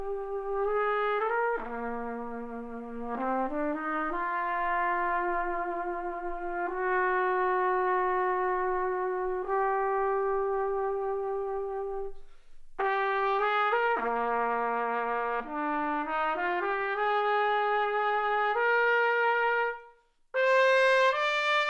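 Old restored trumpet playing a slow melody alone, clear sustained brassy notes with a bright, rich tone and short pauses between phrases.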